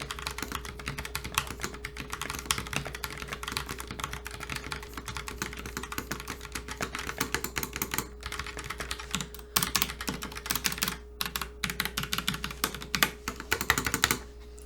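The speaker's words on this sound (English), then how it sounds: "you'll get the actual noise of the brown switches" Someone types on a Logitech Pop Keys keyboard with brown switches, close to the microphone. Quick, steady keystrokes with clear individual clacks run throughout with no talking.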